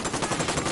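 Rapid automatic gunfire from a Ghost Recon Wildlands firefight, a dense, continuous burst of close shots lasting under a second with no talk over it.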